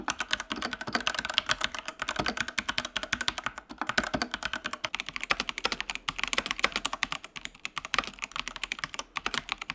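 Steady typing on a Genesis Thor 660 mechanical keyboard with Gateron Red switches, fast, light keystrokes in a continuous rhythm, close up, with a slight room echo and no talking.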